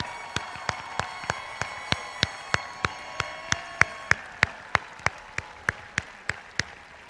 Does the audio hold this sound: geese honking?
no